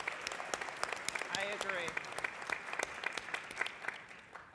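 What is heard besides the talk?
audience applause at a conference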